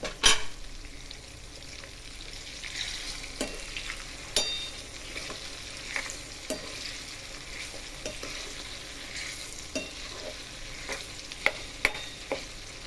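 Tomatoes, garlic and green chillies cook in a covered pan over a gas flame, giving a steady soft sizzle with scattered clicks and light stirring taps throughout, fairly quiet and close.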